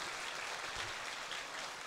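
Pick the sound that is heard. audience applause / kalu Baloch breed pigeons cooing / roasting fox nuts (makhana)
audience applause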